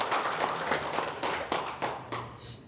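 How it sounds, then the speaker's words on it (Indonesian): Audience applause fills a hall at a BPC HIPMI Kebumen work-program meeting in 2022, steady dense clapping with a few sharper bursts, continuing at moderate level without speech on top. "Tepuk tangan dulu untuk BPC HIPMI Kabupaten Kebumen"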